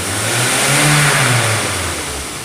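A car engine in an automotive workshop revs up loudly and holds high before easing back down, a close, steady mechanical roar with no talk.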